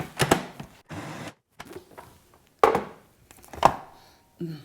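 Chunky guacamole being mixed in a bowl, heard as a handful of close, separate wet thuds and scrapes from a spoon against the bowl, spaced with short quiet gaps.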